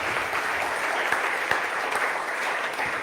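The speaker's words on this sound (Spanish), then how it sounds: "Dale una ofrenda de palmas al Rey." A church congregation applauding during a worship service, a steady, dense wash of clapping from many hands that fills the room without pause and without talk.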